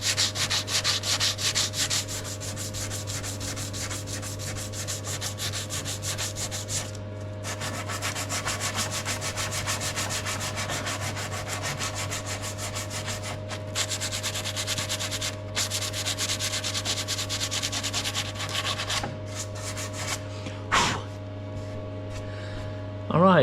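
Steady hand sanding along a panel edge during final paint prep on a 1957 Volkswagen Beetle with oval window, a continuous close rasping scrub with brief pauses over a constant background hum, ending with a few knocks.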